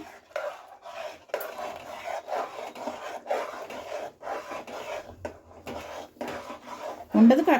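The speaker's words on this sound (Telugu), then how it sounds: "సో ఇప్పుడు ఈ పొడిపిండి కొంచెం కొంచెం వేసుకొని కలుపుకుందాము." Ragi flour being stirred into a thickening mixture in a pot, with repeated scraping and rubbing strokes of a spoon against the pot in a steady rhythm, close and moderately quiet, ending in a brief louder clatter.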